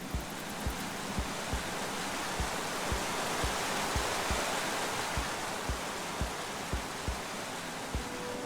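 A waterfall in the video game Minecraft Story Mode gives a steady, broad rushing hiss of falling water, faint and even, broken by soft regular thumps like footsteps.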